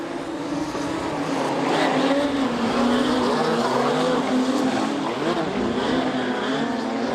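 Modified production race cars at night at Charlton Raceway, a dirt speedway, roaring past in a loud, continuous wash of engine noise with rising and falling revs and a tyre squeal as they run over bumps.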